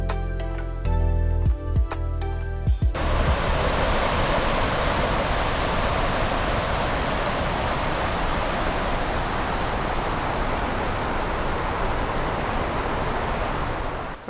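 A steady, loud roar of falling water from a waterfall in a South Carolina forest in autumn fills the whole stretch after a brief opening of other noise, unbroken and close.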